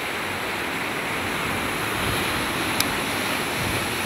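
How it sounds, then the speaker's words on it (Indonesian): Ocean waves washing onto a beach, a steady broad rushing roar with some wind noise on the microphone, continuous and fairly loud, with no voices. "Ini ombaknya aman nggak?"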